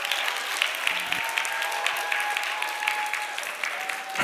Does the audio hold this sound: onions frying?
no